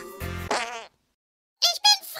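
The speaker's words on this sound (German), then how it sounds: "Verdammt, das war sogar eine Biene." A cartoon bee gives a short, raspy buzz, then falls silent; after a brief pause a few more buzzy bursts follow.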